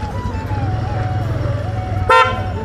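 On a motorcycle ride in Bihar Sharif, India, a single loud vehicle horn honks briefly near the end, cutting through the steady rumble of an engine and traffic.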